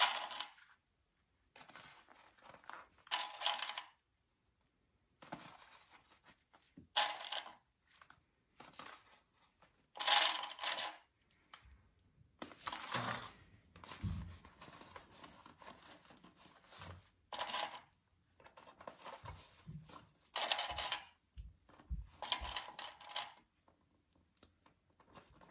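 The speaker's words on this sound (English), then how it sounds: "Start clipping that whole gusset in." Small metal clips being fastened one after another onto the fabric gusset of a shoulder bag, quiet close clicks and fabric rustles in irregular bursts separated by pauses, with no speech.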